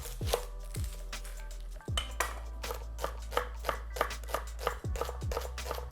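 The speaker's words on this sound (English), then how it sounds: "we're just gonna finely chop our shallot." A knife finely chops a shallot quickly and steadily on a cutting board, with a rapid run of sharp, close taps that pause briefly and then resume.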